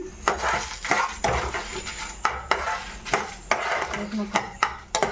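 Ten dried red chillies tossed into a hot pan for sambar after other spices have been roasted, bringing a run of close, sharp metallic clinks and scrapes of a spoon against the pan in an uneven rhythm.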